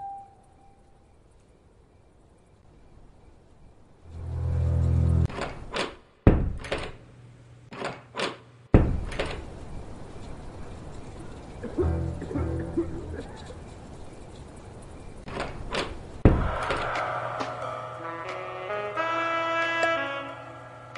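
Repeated rattling thuds of a locked door in the video game A Darker Shade of Red, with sharp knocks and clunks in bursts over several seconds, followed by music and faint game sound.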